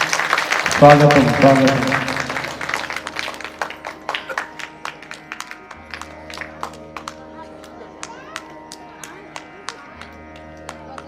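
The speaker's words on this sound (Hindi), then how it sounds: "सब भाई बहन जोरदार ताली से स्वागत करें विधायक जी का" An audience at a Shrimad Bhagavat Katha religious discourse claps to welcome a visiting legislator: a dense burst of applause that thins into scattered claps over sustained harmonium-like tones, while a voice speaks at the start.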